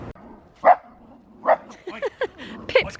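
A pet dog vocalizing indoors: a few short close barks and low growly yips with whimpering, loud and uneven, with a person talking briefly nearby.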